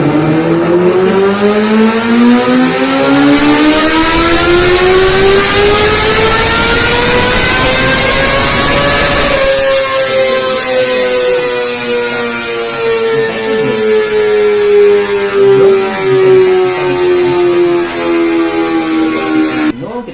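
Kawasaki ZX25R motorcycle fitted with an aftermarket exhaust revving hard, a loud close high-pitched scream climbing steadily through the revs, then easing down again, sustained for about twenty seconds.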